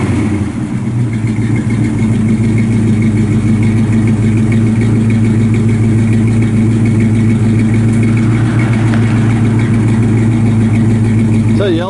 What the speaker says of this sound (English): A nice Flowmaster exhaust comes all the way out the back.